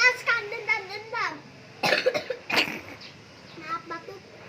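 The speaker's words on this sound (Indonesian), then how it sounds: "Maaf batuk. Jadi keselak aku." A child's coughing fit during a spoken children's story: a short burst of harsh coughs after some talk, then quieter speech continues.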